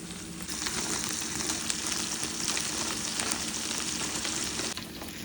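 Mixed vegetables for chicken kuku, including corn, carrot and peas, crackle and sizzle loudly and continuously in a frying pan, a dense hiss that fades slightly at the very end.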